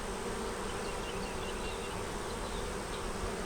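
Honey bees on a hive foundation make a dense, steady buzzing drone that holds evenly throughout, close and loud with no pauses or voices.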